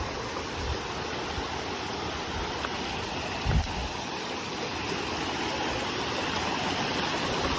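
Small stream of water flowing steadily at an eco tourism park viewpoint in Karbi Anglong, a continuous broadband rush with no voices, one brief low thump midway.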